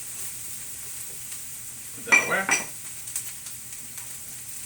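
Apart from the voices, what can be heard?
onions sizzling in frying pan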